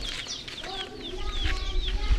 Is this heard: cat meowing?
no